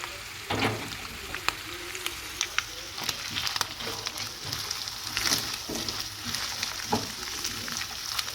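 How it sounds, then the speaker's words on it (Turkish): Onions frying in a pan for potato-filled içli köfte, a soft, steady sizzle with scattered crackles and stirring scrapes close by, with no talking. "kavrulduktan sonra soğanımı ekleme yapıyorum"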